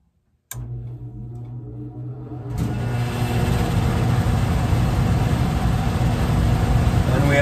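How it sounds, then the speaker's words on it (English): A Goodman gas furnace blower starts after a click and brief silence: a steady hum rises, then jumps to a louder, constant whooshing airflow roar with a faint ticking, running continuously nearby. "I am going to turn our blower on."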